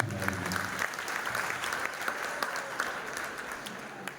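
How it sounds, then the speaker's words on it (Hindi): A crowd at a speech bursts into loud, sustained applause, dense clapping that carries on steadily before gradually thinning out. "ऐसे इंसान के लिए एक बार जोरदार ताली होनी चाहिए।"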